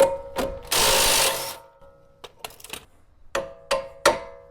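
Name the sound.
removing lower strut bolt on Jeep Grand Cherokee WK2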